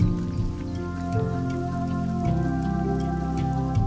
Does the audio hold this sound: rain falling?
yes